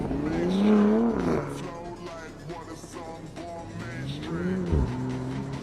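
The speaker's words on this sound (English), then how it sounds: "This car sounds great." A Bentley Batur convertible's engine hums and revs up and down close by, its pitch rising and falling, with a faint voice underneath.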